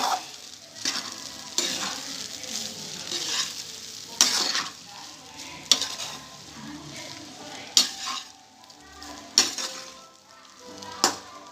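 White rice being stirred in a pan for chicken fried rice over a low flame, a sizzle under repeated sharp scrapes and clinks of the spoon against the pan, coming in a steady rhythm.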